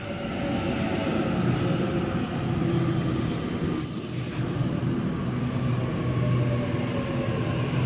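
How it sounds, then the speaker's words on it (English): A Waratah Series 1 electric train approaches platform 1 at Kingswood station at night, a steady moderate rumble and hum of the train drawing in, with no voices. "We have another Waratah approaching platform number 1."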